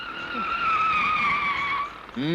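A car driven hard in a film scene gives a long, loud tire skid squeal lasting about two seconds, followed by a brief engine or horn-like burst at the end.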